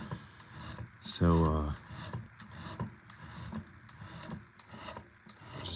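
A hand file rasps across a pocket knife blade while swedging is added, in short repeated strokes with scraping, rubbing sounds and a brief louder squeal early on, while someone speaks briefly.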